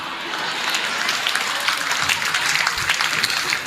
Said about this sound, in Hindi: जिस तरीके से पिंटू जैन जी की पत्नी ने ताली बजाई है